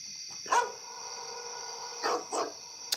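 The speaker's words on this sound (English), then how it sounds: "Dogs bark sound." Recorded dog barks played back during a live stream: three short barks, one near the half-second mark and two close together near the end, fairly loud over a steady high electronic hum, with no talking.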